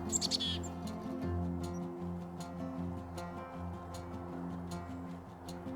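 Juvenile blue jays at seed scattered on a path give short, sharp calls and scattered ticking chirps, spaced irregularly over a steady low outdoor hum.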